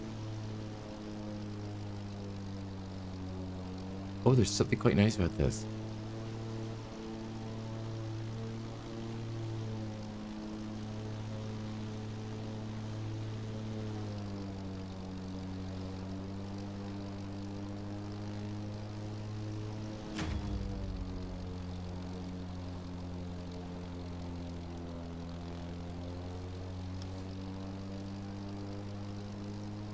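Propeller airplane engine in the racing game The Crew Motorfest, a steady droning hum that holds throughout, with a brief clatter early on and a single spoken remark over it.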